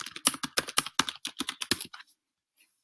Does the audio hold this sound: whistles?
no